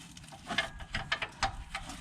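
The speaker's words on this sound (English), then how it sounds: "So I'm gonna get this line wrench on here." Metal clicks and scrapes as a line wrench is fitted onto the brake hard line nut of a BMW 3 Series E90, a handful of short irregular ticks close by.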